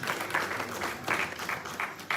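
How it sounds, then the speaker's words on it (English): Applause from an audience at a political party chapter unity conference in West London: a crowd clapping in uneven swelling waves, close and fairly loud, with no speech over it. "I want us to clap for ourselves."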